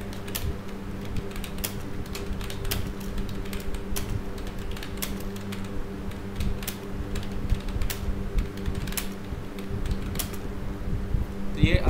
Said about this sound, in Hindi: ये आपकी टाइपिंग थी